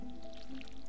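A short, wet splash and drip as a watering can waters crops in Stardew Valley, close and moderately loud, lasting under a second with no voices.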